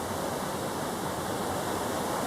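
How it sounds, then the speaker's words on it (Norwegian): Water churning and foaming up alongside the cruise ship Liberty of the Seas as its side propellers work hard while turning into harbor, a steady rushing roar like a waterfall. "Og vannet, det bare fosser opp her nå."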